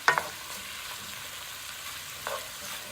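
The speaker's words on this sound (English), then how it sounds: "we're going to fry that up till the hamburger meat is browned and the onion is cooked" Ground beef and onions frying in a pan for stuffed cabbage roll soup: a steady, close sizzle throughout, with a couple of brief stirring scrapes at the start and again near the end, no talking.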